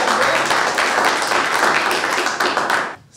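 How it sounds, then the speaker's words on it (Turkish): Audience applause in a live storytelling show as the next storyteller is invited onstage: steady, dense clapping from a crowd filling the whole stretch, then fading out abruptly at the end. "Alkışlarım."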